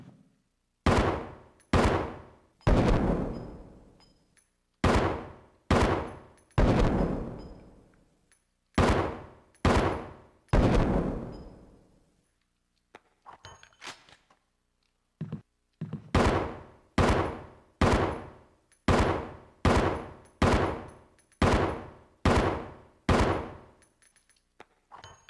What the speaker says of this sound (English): A STARS custom automatic. Fires 9mm parabellum rounds.